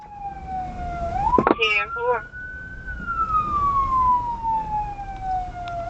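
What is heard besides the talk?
police car siren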